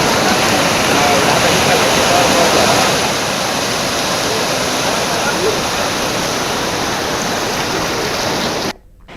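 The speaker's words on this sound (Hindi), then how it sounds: "सड़क पर पहुंचा जावस नदी का पानी। पहली बार नदी में बाढ़ आई है।" The flooded Jawas river, in its first flood, has overflowed onto a road and rushes past with a loud, steady roar close by. It softens slightly partway through and cuts off abruptly just before the end.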